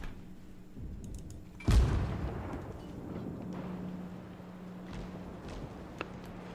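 A single warship gun salvo booms loudly in World of Warships, a sharp low blast that decays over a second, followed by steady engine and sea rumble with faint distant thuds.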